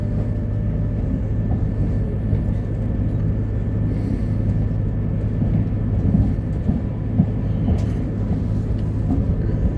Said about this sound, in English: Casually keeping an eye on a freight train, which is just near the station.